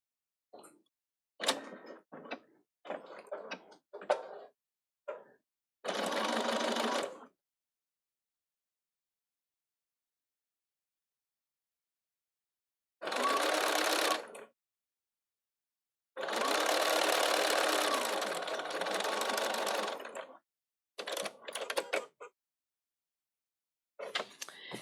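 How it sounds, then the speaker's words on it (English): A Bernina 770 sewing machine stitches binding across the waist of a garment, heard as close, steady mechanical whirring in several bursts, some short and stuttering, others running for a few seconds, separated by silences. "then you're going to sew across the waist of this again"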